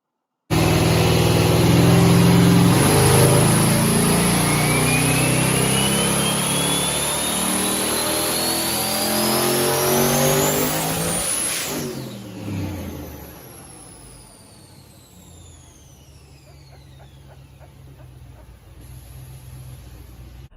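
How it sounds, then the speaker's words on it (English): A twin-turbo, nitrous Fox Body Mustang on a dyno revs hard and loud, the engine pitch climbing through a long pull before cutting off and fading into a quieter idle with faint whines. "this is just me getting the car ready to go on the dyno for the first time."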